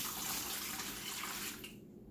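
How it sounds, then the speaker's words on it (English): Water poured into a pot of old-fashioned beef stew being prepared for canning, a close, steady rushing splash that runs for about a second and a half and then stops. "now you gotta add 2 cups of water, the Worcestershire sauce, basically everything"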